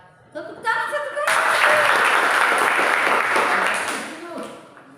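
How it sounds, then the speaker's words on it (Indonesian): A classroom of students applauds together on cue, a dense burst of hand clapping that swells quickly and holds steady for a few seconds before tapering off, with some voices beforehand. "Tepuk tangan satu kali"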